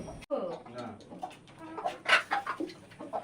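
Desi country chickens clucking in a backyard coop, short close calls and murmurs coming in uneven bursts, with a person's voice talking among them.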